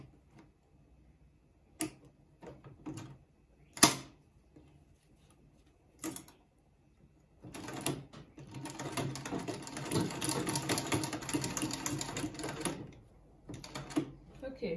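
A sewing machine stitches along the edge of a woman's trouser in a long steady whirring run, preceded by scattered clicks and brief mechanical bursts, close by.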